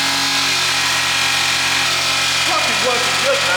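Hooked into a car's engine intake, a Hoover vacuum cleaner drones loud and close, a constant tonal hum that sounds much like an idling engine, with slight wavering near the end.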